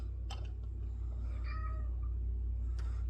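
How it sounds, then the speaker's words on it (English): A cat meows a couple of short, faint calls in a home kitchen during salsa canning, heard over a steady low hum. "the kitty is talking to me"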